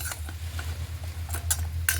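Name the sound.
stirring fried gaja sweets in sugar syrup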